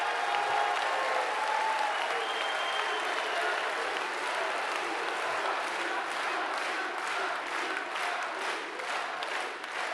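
An audience at a political rally applauds, a dense sustained wash of clapping that fills the hall and grows into more rhythmic, unified beats toward the end.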